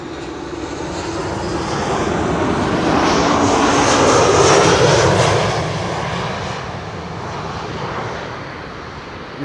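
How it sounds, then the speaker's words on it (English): A KLM Boeing 737-700 arrives at Amsterdam Schiphol from Vienna, its jet roar swelling to a loud peak mid-pass and then easing into a steady, slowly fading rumble outdoors. "This is KLM Flight 1902. It's a 737-700"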